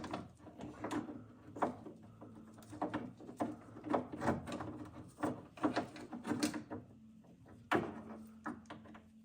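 Lock assembly being pried out of the door of a Volvo 740, with repeated scraping, clicking metal-and-plastic knocks and creaks at close range, no talk.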